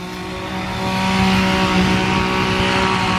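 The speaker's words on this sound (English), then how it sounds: "Excuse the lawnmower in the background." A lawnmower's steady motor drone runs continuously in the background, a constant mechanical hum that grows slightly louder partway through.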